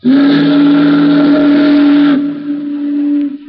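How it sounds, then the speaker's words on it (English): A loud, steady stern-wheel riverboat whistle blows for about three seconds, a deep sustained tone with a breathy hiss that tapers off at the end. "The big boat's doleful whistle and the rhythmic churning of her huge stern wheel were the only audible sounds"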